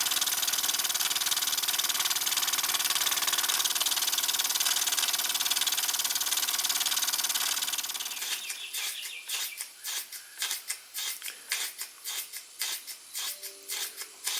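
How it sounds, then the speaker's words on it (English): A steady rushing, whirring roar of a Baker fan fades out, leaving a small Jensen #5 model steam engine under load chuffing in a quick, regular rhythm of soft puffs nearby. "So running the baker fan definitely puts this little engine under a load."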